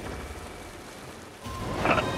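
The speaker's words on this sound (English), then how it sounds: "I made rain." Magicka video game spell producing rain, a dense steady hiss of rainfall effect with a low rumble, rising slightly louder partway through over a couple of seconds.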